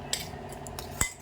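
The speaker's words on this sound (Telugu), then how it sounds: "ఇలా వాటర్ వేసి ఉండలు లేకుండా జావలాగా కలిపి పెట్టుకోవాలండి" Ragi flour being stirred with water in a bowl, a few light spoon clinks and scrapes against the bowl over a quiet background, one sharper tap near the end.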